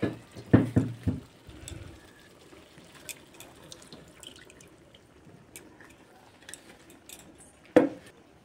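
A plate is rinsed at a tap and the water added to a pan of spiced boal fish curry: splashing and dripping bursts at the start and near the end, with scattered clinks and quiet trickles between.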